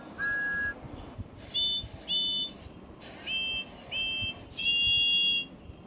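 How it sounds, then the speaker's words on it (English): Steam engine whistles sound across a train yard as a run of short, clear tonal toots, about six bursts in quick succession, each a single shrill pitch over low background rumble. "There was so much whistling in the yard that the Fat Controller came out of his offi"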